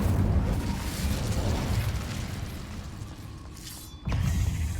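Incendio fire spell cast in Hogwarts Legacy, a rumbling roar of magical flame with mechanical whooshing, steady and loud, a brief dip and then a fresh burst near the end.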